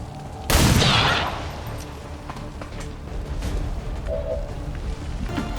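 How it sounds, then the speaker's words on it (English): A single loud, booming rifle shot cracks out in the XCOM 2: War of the Chosen video game, then fades into a low, busy game ambience with faint tones. "we could try to shoot this guy"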